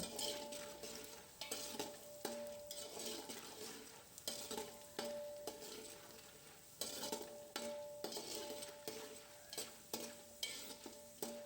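A spoon scrapes and stirs puffed rice chivda in a hot pan, a rhythmic dry rustling and scraping with short bursts repeating throughout and no talk.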